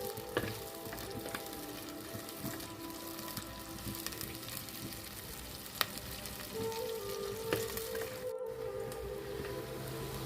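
Onions cooking in a pan for a fish tamarind curry with raw mango pieces, giving a steady low sizzle and soft frying hiss with occasional stirring squishes, close and quiet, no talking.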